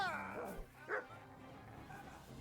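A dog barks inside the medieval role-playing game Kingdom Come Deliverance II, a couple of short woofs set against game ambience and a voice talking over the action.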